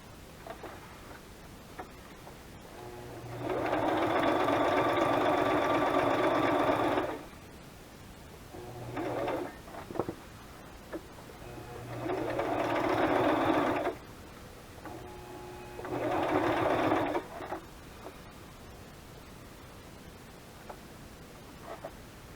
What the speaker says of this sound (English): That's all the sewing.